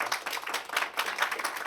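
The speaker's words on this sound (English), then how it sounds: "thank our panelists with a round of applause" Audience members at a higher-education panel discussion clap for the panelists, a short burst of moderately loud, uneven clapping from a small crowd with individual hand claps audible in the mix.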